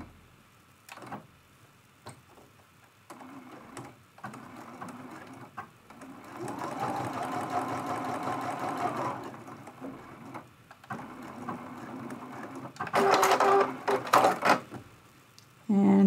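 A sewing machine quilting a teapot mug rug runs in short bursts and one longer stretch of rapid stitching, with clicks and handling noises between runs and a person speaking at times.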